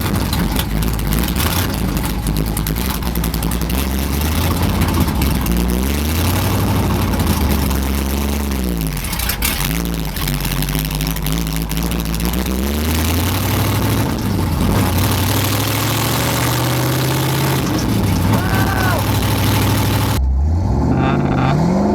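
Loud, raw car engine roaring and revving up and down through straight headers with no exhaust, harsh and unmuffled, sustained throughout with rising and falling pitch sweeps.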